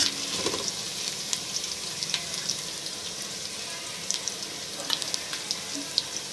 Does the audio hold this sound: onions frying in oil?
yes